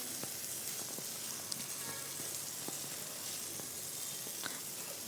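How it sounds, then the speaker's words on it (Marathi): Soaked rice sautés with whole spices in a pan, giving a faint, even, continuous sizzle with a few small ticks from grains and the spoon. Nobody speaks. "तांदूळ हे परतत असताना छान सुगंधित वास हा घरामध्ये येतो"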